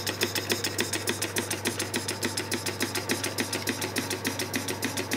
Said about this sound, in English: Running the printing press beautifully.